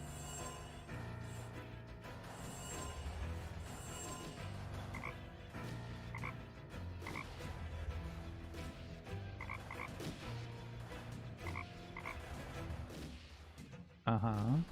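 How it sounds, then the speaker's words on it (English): Frog croaks in the adventure game Deponia sound over a busy, layered game soundscape with music and effects, repeated bursts throughout, ending in a sudden louder crash. "Okay, you can also become a frog."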